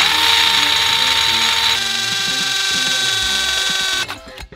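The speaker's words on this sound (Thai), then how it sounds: "กระเบื้องก็เจาะได้นะครับ" A Keyang DM18BL-W cordless drill bores into tile with a loud, steady high-pitched grinding whine that holds for about four seconds, shifting pitch slightly midway, then cuts off abruptly.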